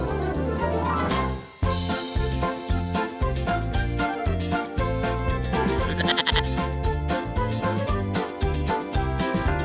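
Mountain goat bleats ring out over loud, busy music with jingling bell-like tinkles, the animal calls fairly prominent but mixed into a steady, rhythmic backing.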